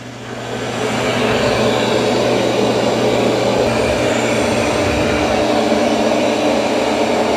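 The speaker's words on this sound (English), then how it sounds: "now it's going to start cleaning the kitchen" A Roborock S8 robot vacuum and mop starts cleaning a kitchen, its motor rising within the first second into a loud, steady whirring drone that continues close by, with no talk.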